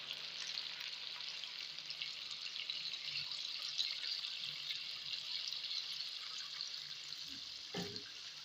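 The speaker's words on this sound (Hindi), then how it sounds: "अब इसमें हम शामिल करेंगे पानी। पानी जितनी ज़रूरत है आपको उतना आप डालें।" Water goes into a pan of frying chicken feet, giving a steady, even sizzle and hiss that holds throughout, with a brief clunk near the end.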